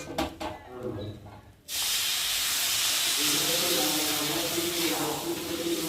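Water poured into hot semolina in a pan erupts into a loud, steady sizzling hiss that holds for several seconds, following a few quieter kitchen clinks at the start.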